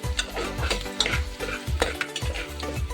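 Onions and green chilies fry in a pan for a country chicken dish, sizzling loudly while a utensil stirs and scrapes against the pan in quick, repeated strokes, up close and without any talking.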